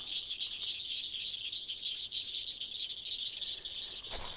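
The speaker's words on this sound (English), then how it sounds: "the sound of the frogs and the crickets all night long just puts you right to sleep" A steady, dense chorus of crickets trilling continuously at night in a national forest campsite, with frogs calling softly underneath, no voices.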